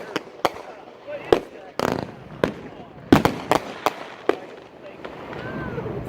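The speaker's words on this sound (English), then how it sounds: "That was not nice bottle rocket." Bottle rocket fireworks at a consumer fireworks demo burst in a scattered series of sharp pops and cracks, some rapid and some spaced apart, with voices heard in between.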